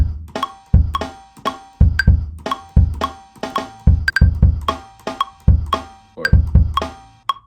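Drum kit beat at about 115 tempo, a steady, loud groove of punchy kick drums and cracking snare hits with bright ringing cymbal accents, played alone.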